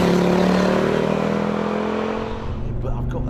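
A 1981 Audi Coupe Quattro's turbocharged engine pulls hard under acceleration, a loud steady drone with a rising whine heard from inside the car, fading slightly toward the end.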